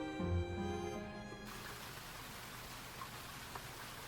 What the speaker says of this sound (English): I can hear the sound of rain.